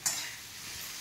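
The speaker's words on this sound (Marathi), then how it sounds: "आता सगळं मिक्सा करून घ्यायचं भाजीचं." A vegetable bhaji being stirred and mixed in a pan, a soft scraping swirl over a low sizzle, close and steady for a moment with no voices.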